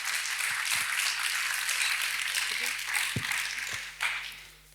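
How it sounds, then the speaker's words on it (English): A conference audience applauds after a talk on token economics and Web3 business models, producing a steady wash of clapping that lasts several seconds and fades at the end, with a voice speaking over it. "A round of applause."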